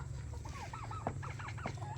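Chickens cluck softly nearby in short, repeated bursts over a constant low hum, with a couple of louder clucks mixed in, as they are put into their coop.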